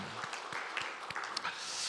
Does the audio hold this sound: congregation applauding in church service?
yes